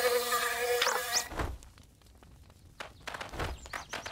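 Bees in the video game Camp Canyonwood buzz in a dense, high whine at the start, then thin out into scattered footsteps and light game sounds.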